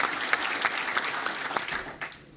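Audience of Senate Democrats applauding for Harry Reid, brisk clapping with distinct individual claps, moderately loud, fading near the end.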